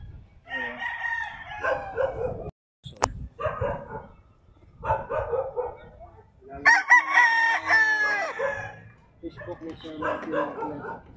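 Sweater gamefowl roosters crow repeatedly on a farm in Tagaytay City, several loud calls near and mid-distance, with someone speaking between and over them.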